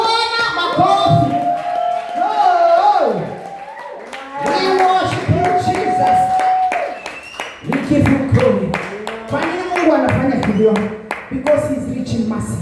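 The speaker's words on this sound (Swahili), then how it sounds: "Pigia Bwana makofi." A church congregation claps for the Lord during worship, with bursts of rhythmic hand claps and taps under a preacher's loud, echoing speech and some singing.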